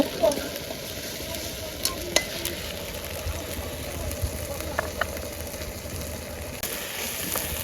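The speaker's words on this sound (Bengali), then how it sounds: "পেঁয়াজ আদা রসুন সুন্দর মতো ভাজা ভাজা হয়ে গেছে" Onion, ginger and garlic fry in oil with a steady crackling sizzle, punctuated by occasional clinks of a spoon stirring the pan, while cooking a prawn dish.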